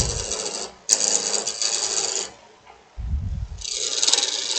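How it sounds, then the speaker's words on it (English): Roughing gouge making peeling cuts into a spinning wooden goblet blank on a lathe, giving a loud, close, continuous rasping hiss in two long bursts, with a brief quieter gap of lathe hum between them. "we can just do some peeling cuts with this part of the flat of your roughing gouge"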